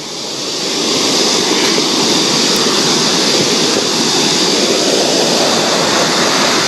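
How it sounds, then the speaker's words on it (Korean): Stream water rushing down a rocky valley near farmland at Geumbong-ri, Gacheon-myeon, Seongju, a steady broad wash that swells in over the first second, then holds loud and close with no talk. "물소리 들리시죠?"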